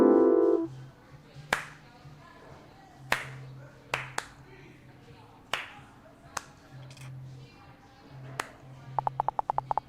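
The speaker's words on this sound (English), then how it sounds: "That's more claps than I expected." Clapping in the Dream Daddy video game comes as separate sharp claps spaced a second or two apart, ending in a quick run of rapid claps, over a soft musical tone and background game sounds.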